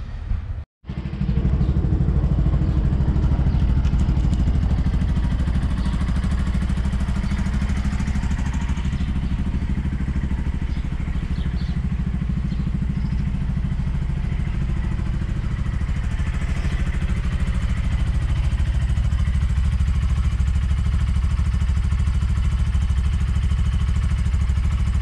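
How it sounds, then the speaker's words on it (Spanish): A motorcycle engine on a small camper tricycle starts and then runs steadily at idle, a close, continuous low rumble with faint clatter. "prendes el motor de la moto"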